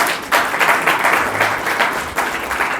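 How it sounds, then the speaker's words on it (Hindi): An audience applauds at a World Theatre Day event at Khairagarh University, with loud, continuous rapid clapping from a crowd that fills the whole stretch. "उसके लिए भी ताली बजाइए।"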